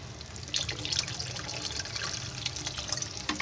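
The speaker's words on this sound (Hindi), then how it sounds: "तो मैं भी थोड़ा सा इसमें डालूंगी पानी।" About a cup of water poured into a simmering fish kofta curry on the stove, a continuous close splashing stream with small bubbling and pattering under a low background hum.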